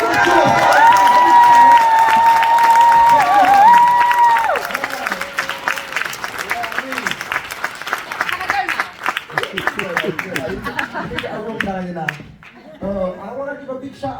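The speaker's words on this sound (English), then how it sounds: "Big round of applause." Loud audience applause and cheering at a poetry night, dense clapping mixed with shouts and voices, with music present early on and the crowd thinning into scattered clapping and chatter toward the end.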